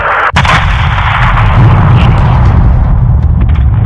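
Heavy gunship artillery fire in an Ace Combat video game, a loud sustained barrage of booming blasts with one sharp crack near the start, dense and continuous throughout.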